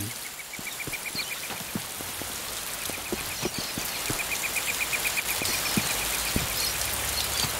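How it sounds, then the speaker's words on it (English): Rain falls in a video game as a continuous hiss with scattered ticking drops, gradually swelling louder, alone without talk and joined by a faint regular chirping tone. "rain."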